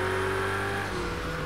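A Ferrari racing car's engine in Project Cars 2 drones loudly at high revs, then lets off and the pitch falls as it slows for a corner, heard close with no talking.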